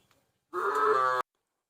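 A single loud, drawn-out moo from a cow at a cattle and buffalo market in Wang Prachop, Tak province, Thailand, lasting under a second, close and clear with no talk.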